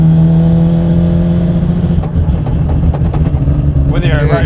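A Mazda RX7 with a 26B four-rotor rotary engine runs loud and close, a deep buzzing drone that rises into a rev partway through, while people talk over it.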